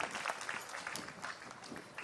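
Audience at a university fall commencement ceremony claps continuously, a dense, moderately distant patter of many hands with no pause.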